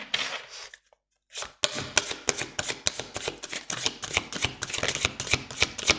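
A deck of cards being shuffled and a card drawn: a brief riffle, a moment of silence, then a long run of crisp rapid flicks and snaps close up.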